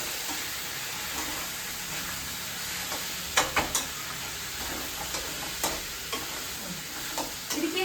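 Food sizzles steadily in a pan while a utensil scrapes and clicks against it in irregular strokes, close and fairly loud.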